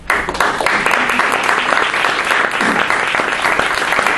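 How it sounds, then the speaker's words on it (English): An audience at a celebration event applauds a woman honored for serving her community, a loud, dense, continuous patter of clapping from many people filling the whole stretch without pause. "I would hope that you will join me in applauding her"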